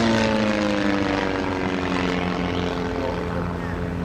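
Propeller aircraft flying aerobatics at the Blackpool airshow, its engine a loud, steady drone with a sustained harmonic whine that shifts slightly in pitch as it passes close by throughout.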